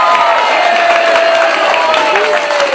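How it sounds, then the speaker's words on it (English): Crowd noise at an outdoor chilli eating contest in Burnham-on-Sea, with cheering, whoops and applause rising together in a dense, steady wash that fills the clip, close and loud. "A round of applause for Thomas, please."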